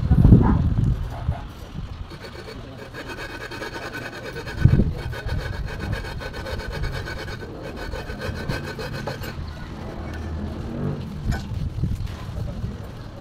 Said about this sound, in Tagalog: Nililiha po namin itong engine block para po pumantay.